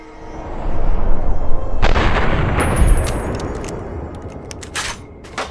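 Gunfire from a bandit shootout in Fallout: New Vegas: a dense, loud roar of shots that swells and then tails off into scattered sharp cracks and reports, with no voices.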